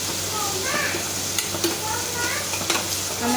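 Chopped onion sizzles in hot oil in a pan while being stirred, a steady frying hiss broken by a few sharp scraping clicks of the spoon against the pan.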